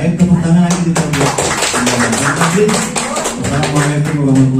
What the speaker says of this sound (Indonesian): Baik, tepuk tangan lagi kita buat.